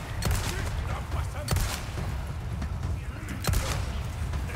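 Gunfire in Resident Evil 4 Remake: a few sharp, loud shots spaced about a second apart, cutting through a steady rumble of game noise and low background voices.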